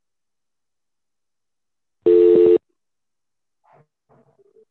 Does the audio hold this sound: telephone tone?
yes